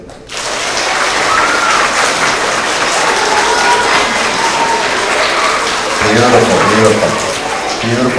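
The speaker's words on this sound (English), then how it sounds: "Let's practice just applauding for all of our friends." Young kindergarten-to-second-grade children at a school award assembly practice applauding together: loud, dense, continuous clapping from a large group, with children's voices rising over it toward the end.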